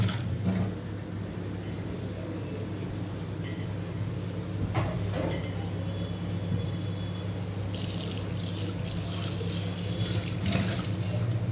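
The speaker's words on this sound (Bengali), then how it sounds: "চিকেনের বাটিটা একটু ধুয়ে নেব।" A chicken bowl is washed under a running kitchen tap, with steady water flow into the sink, a few knocks of the bowl and a brighter splash near the end.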